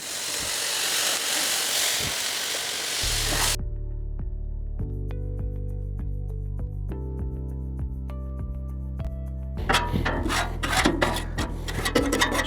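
A metal scraper rasps across a Blackstone griddle as gunk is cleaned off, with harsh, close scraping at the start that gives way to steady tonal sounds before gritty scraping strokes return near the end.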